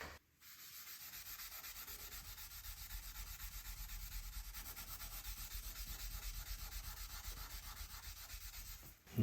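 Steady, continuous scrubbing with a Mr. Clean eraser and Scotch-Brite pads on a surface, a dry rubbing rasp that runs close and even for several seconds before stopping abruptly.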